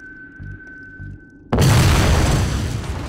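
A boomstick explosion in the video game Jak II goes off as one sudden loud boom after a quiet stretch with a low hum, followed by a long roaring, crackling rumble that slowly fades.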